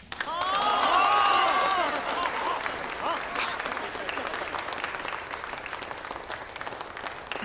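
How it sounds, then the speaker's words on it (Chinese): An audience bursts into loud applause at a jewellery design presentation, swelling quickly and then easing into a lighter, sustained patter with some cheering and crowd noise. "请大家掌声鼓励。"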